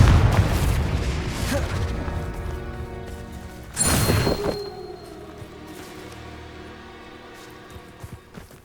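A Confringo fire spell in Hogwarts Legacy bursts with a sharp, loud explosive crash midway, following rumbling action, then fading into a quieter musical background.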